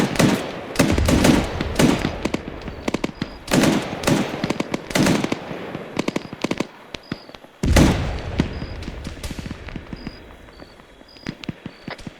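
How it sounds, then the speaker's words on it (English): Heavy guns in a video game battle fire in rapid bursts: loud, dense volleys of shots with short pauses, a sharp restart of firing midway, and faint high electronic tones in the background. "Big guns taking down at least 3."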